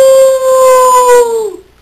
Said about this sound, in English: Sounds like the wolf then.